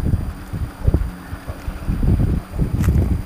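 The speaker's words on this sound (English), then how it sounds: "that wind is has been nasty the last couple of days" Gusty wind buffets the microphone outdoors during a fishing outing, with uneven low rumbling bursts that swell and drop irregularly over a steady hiss, loud and close throughout.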